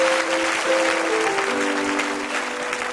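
A church congregation at a French-language sermon breaks into sustained applause and cheering, a dense even roar of clapping that holds steady throughout, with a faint sustained tone beneath it.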